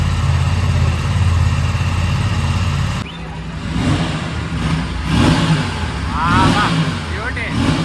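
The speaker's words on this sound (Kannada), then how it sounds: "ಸಾಕಾಗಿದೆ ಎಕ್ಸಾಸ್ಟ್ ನೋಟ್." An Aprilia RS 457 motorcycle idles with a steady low exhaust burble, then gets blipped in several sharp revs that rise and fall, loud and close, with brief talk nearby.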